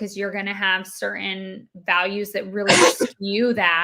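A single sharp sneeze bursts out in the middle of someone talking, loud and close, surrounded by ongoing speech.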